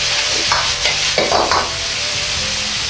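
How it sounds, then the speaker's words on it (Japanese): Kamaboko, spinach and other vegetables sprinkled with pepper are stir-fried in a pan, a loud steady sizzle broken by a few scraping tosses of the spatula. "味が全体に回るように炒め合わせます"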